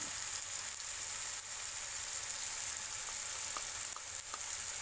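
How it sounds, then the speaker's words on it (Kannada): Chopped tomato sizzles and fries in a pan for bhindi masala, a steady close hiss of hot oil with faint stirring clicks and no talk. "ಟೊಮೆಟೊ ಸ್ವಲ್ಪ ಬಾಡಿಸಿ ಆಮೇಲೆ ಬೆಂಡೆಕಾಯಿ ಮಸಾಲೆ ಎಲ್ಲ ಹಾಕ್ತೇನೆ"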